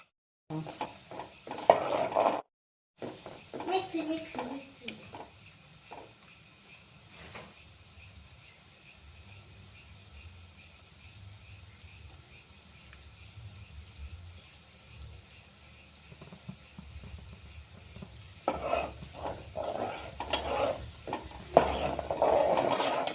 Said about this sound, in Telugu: అది అడుగంటకోకుండా తిప్పుకోవాలి